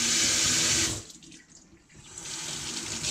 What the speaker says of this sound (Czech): Studenou vodou si namočím ruce.